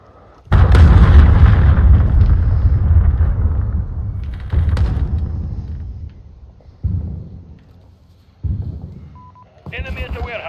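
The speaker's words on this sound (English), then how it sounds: "Enemy cruise missile incoming." Cruise missile strikes in Call of Duty Modern Warfare land as a loud, close explosion followed by a long rumbling decay, then several further booming blasts that fade out, with brief game chatter between them.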